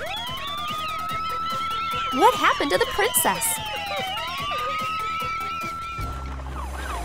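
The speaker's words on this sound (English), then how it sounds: "Call an ambulance immediately!" An ambulance siren wails in a rising, sweeping tone at moderate distance, running beneath animated character voices in a cartoon medical scene with a mermaid princess.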